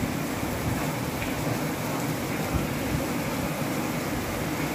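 Steady rain falls on a hot day, a constant, even hiss of drops that holds at the same level throughout, with no voices.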